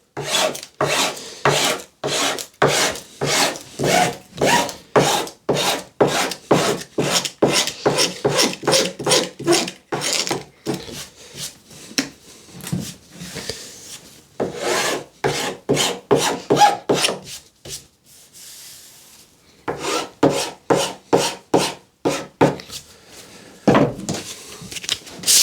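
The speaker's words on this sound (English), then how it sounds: "So only pushing forward, so pushing the tape onto the edge." Edge tape being pressed and rubbed forward along a wooden panel edge, a steady series of close, rasping strokes in quick rhythm with a couple of short pauses, no voices.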